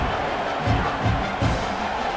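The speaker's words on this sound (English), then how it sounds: "this crowd is buzzing after that last score" A stadium crowd buzzes in the College Football 26 video game after a score at a Baylor versus Oklahoma matchup, a dense, continuous roar with swelling cheers.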